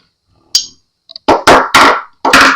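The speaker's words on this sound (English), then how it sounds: "I'm just going to show you putting the dowels in and tapping them down" Wooden dowels are tapped into holes in a partscaster guitar body: a sharp knock, a couple of light taps, then four firm, close hammer strikes in quick succession.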